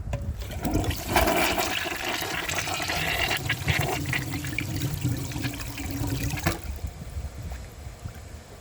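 A Mansfield Alto comfort-height toilet flushes loudly and close, a rushing surge of water that drains and swirls for several seconds before cutting off abruptly into a quieter refill trickle.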